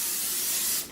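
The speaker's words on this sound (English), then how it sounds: "Then I'm going to take this spray and I'm going to spray on top of it." A single steady hiss of cooking spray coated over the top of a breakfast pizza before baking, close and loud for under a second, then cutting off sharply.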